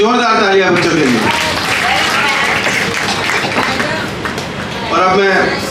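An audience claps for a children's performance at a devotional festival at an ashram, sustained loud applause with talk over it at the start and end.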